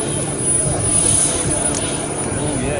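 An RC model airplane drones past overhead in a steady engine buzz that swells slightly and then fades, with people talking over it.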